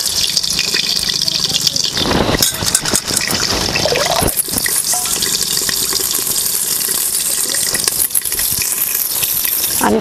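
Fresh coriander washed in water, with steady loud splashing and running water throughout, interrupted by brief handling knocks.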